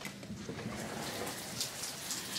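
Steady rain falls outdoors in Bora Bora, easing just after a downpour, a soft continuous patter with scattered drops landing close by and no voices over it.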